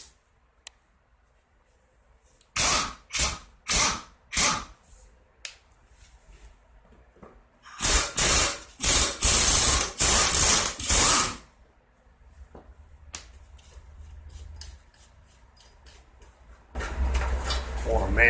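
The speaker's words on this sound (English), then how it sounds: "The bolt on this blade is a 5/8. I'm going to use an impact wrench to take it off." An impact wrench removing a 5/8 bolt from the blade of a 2018 Yard Machines 11A-02BT729 lawn mower with a cruddy deck: several loud, close rattling hammer bursts, first short and separated, then a longer sustained run, followed by quieter clicks.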